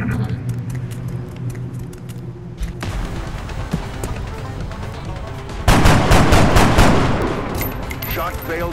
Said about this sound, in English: Shot failed to connect.